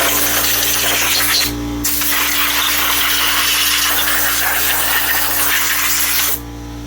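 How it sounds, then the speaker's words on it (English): Compressed air blasting moisture out of the bolt holes of a Mopar 360 LA engine block, a loud continuous close hiss that cuts briefly and resumes before stopping near the end, with no talking. "I use compressed air to blow dry everything out, all the bolt holes, everything"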